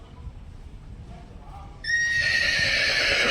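A mare at a rural bullock shelter near Keshod lets out a loud, close whinny that starts partway through and carries to the end, following quieter ambient farm noise.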